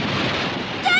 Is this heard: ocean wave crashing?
yes